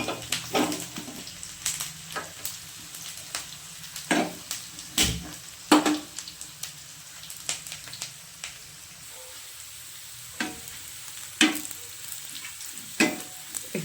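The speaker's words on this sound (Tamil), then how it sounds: "வெங்காயம் நல்லா வதங்கிடுச்சு" Onions sautéing in a pan while cooking traditional sambar, a soft continuous sizzle broken by irregular sharp stirring clatters and scrapes, close and fairly quiet with no talking.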